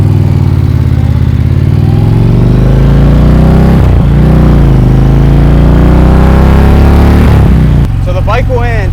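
A 2023 Indian Challenger Dark Horse motorcycle engine runs loud and close, a continuous deep rumble that shifts slightly in pitch as it idles and revs.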